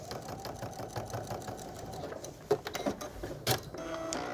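Sewing machine stitching a quilt block seam, a quiet, steady mechanical whir with rapid needle ticking and a couple of sharper clacks near the end.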